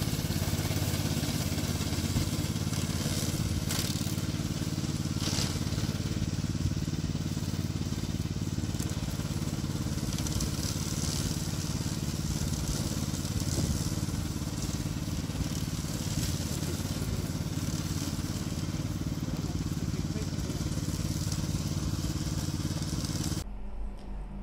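A petrol-powered remote-controlled brush mower with sharp mowing blades runs continuously with a loud, steady engine drone and rough mechanical whine, close throughout and cutting off abruptly at the end.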